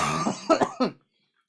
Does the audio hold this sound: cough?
yes